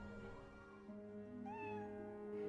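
A cat meows in the Professor Layton vs Phoenix Wright video game, a single drawn-out, rising cry over a steady tonal game background, with no talking.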